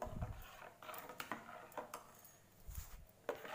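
A spoon stirs ground paste into buttermilk in a metal vessel for majjiga pulusu, giving repeated irregular clinks and scrapes close by, some sharp and some soft, with quiet gaps between strokes.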